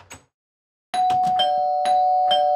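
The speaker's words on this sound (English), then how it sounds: "What the fuck is ringing the doorbell?" An electronic doorbell in a video game chimes in several quick, bright tones, ringing close and clear after a brief silence, repeating in a short pattern.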